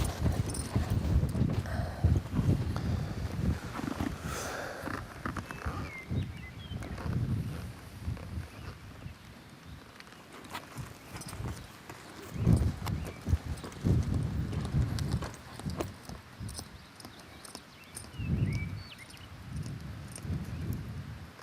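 Hooves of a ridden horse during a riding lesson, irregular clip-clop footfalls at a moving gait, fairly close, with occasional rustling and louder thuds.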